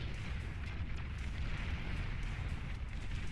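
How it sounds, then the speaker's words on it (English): Bombs from a bomber's run burst in the real-time strategy game Beyond All Reason, a dull, rumbling roll of low explosions blending into one another at moderate loudness, with no voices. "That was a lot better of a bombing run."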